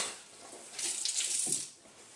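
A kitchen tap runs over a pheasant being rinsed, a brief hissing splash that swells for about a second before fading, close and moderately loud, no voices.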